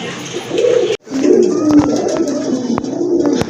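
Pigeons cooing close by in a coop, repeated soft throaty coos with a brief break partway through, plus light scuffles and taps.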